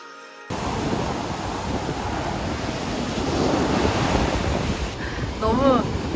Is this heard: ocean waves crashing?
yes